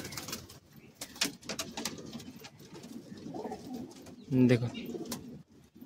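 Madrasi and desi pigeons at a sale in Bagnan, Howrah, cooing softly in low murmurs throughout, with a louder burst of cooing near the end, under someone talking.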